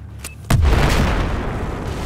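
A single sharp explosion in Battlefield 4 blasts in after a faint earlier pop, hitting hard and loud, then trailing into a long rumbling decay.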